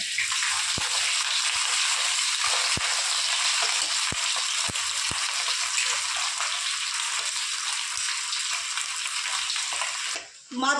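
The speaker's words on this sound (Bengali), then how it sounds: "মাছ কড়া করে ভেজে নিয়েছি" Fish fried crisp in hot oil in a pan, sizzling loudly and steadily throughout, with a few sharp clicks early on and a brief dip and rustle right at the end.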